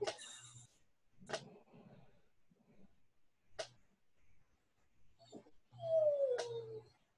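A dog whimpers in short, high whines indoors, several separate cries spaced apart with quiet gaps between them, ending in a longer drawn-out whine, close and clear.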